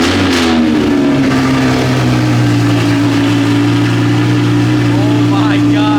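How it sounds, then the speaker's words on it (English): A straight-piped, tuned Audi R8 engine runs loud and close, its deep, steady idle drone booming throughout, with a brief surge at the start and voices talking over it. "So brake and then just push the start button."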